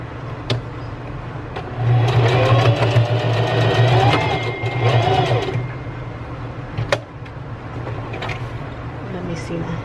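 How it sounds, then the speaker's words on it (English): A sewing machine stitches a zippered fabric scrunchie, running in a steady humming burst through the middle of the clip with a person talking over it, then falling quieter. "Let me see if I sew it again, it'll look better."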